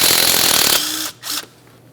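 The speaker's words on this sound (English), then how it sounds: "we'll be using a 12mm to remove the mounting bolt" A 12mm wrench ratchets on the mounting bolt at the lower strut of a 2011-2020 Toyota Sienna, a dense close burst of clicking metal followed by a couple of short, quieter turns.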